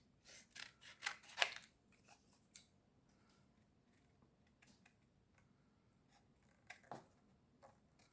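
Scissors snip through card for a handmade sketch card, with a cluster of close, crisp cuts early on, a long quiet gap, then a couple more faint snips near the end.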